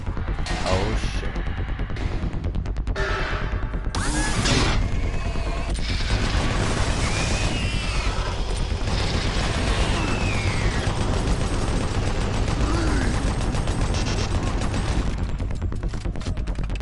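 A newly picked-up gun fired in a video game, with sustained rapid bursts of shots, clattering mechanical effects and crashes running loud and dense across the whole stretch, with occasional brief speech.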